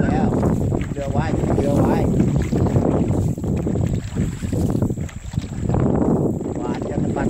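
A rowing boat moving across the water during practice, with a continuous rushing wash of water and heavy wind buffeting on the microphone, while a coach's voice calls out over the noise.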